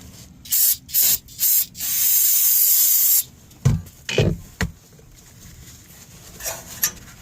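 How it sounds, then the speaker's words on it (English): Brake cleaner sprayed onto the transmission fill plug of a 1996-2002 Nissan R50 Pathfinder: three short hissing bursts, then a longer sustained spray, followed by a few clunks and light tool knocks nearby. "I'm gonna hit it with some more brake clean"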